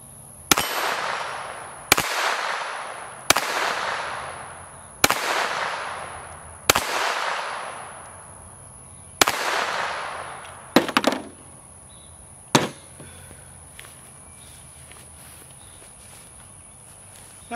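An S&W M&P 22 Compact pistol fires at a plate rack on a backyard range, about eight sharp cracks with ringing tails at an uneven pace, then quiet with insects chirping steadily in the background.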